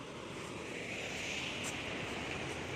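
Released water from Amaravathi dam rushes in a dense, steady roar, loud and continuous like surf, with some wind noise on the microphone and no talk.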